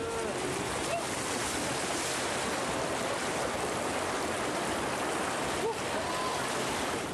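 Rushing lahar volcanic mudflow from Mount Semeru surging down the Regoyo river channel in Lumajang, a loud, continuous broadband roar of churning water and debris filling the whole clip with no pauses.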